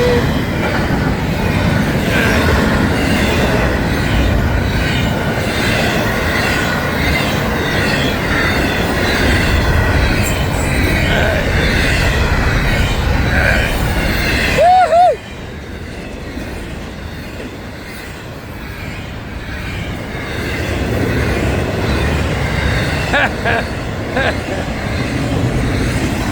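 A train rolls past close by in sunny Pompano Beach, its loud, steady rail rumble and clatter filling the scene, briefly dropping and shifting midway with a short squeal before building again.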